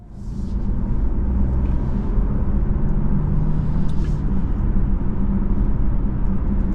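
Cabin sound from a 2024 Buick Envista Sport Touring driving on the road, with a steady low engine and tire rumble that settles in after pulling away and continues evenly throughout.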